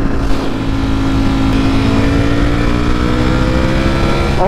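A three-wheeled motorcycle engine drones steadily while riding on an open road, a loud continuous hum with a low tonal whine and rushing wind that barely changes in pitch throughout.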